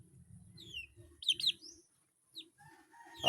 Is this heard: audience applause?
no